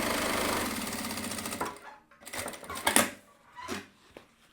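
A sewing machine stitches a seam close to the teeth of a zipper, running in a steady whir for about two seconds before stopping, followed by a few short scattered clicks and handling sounds.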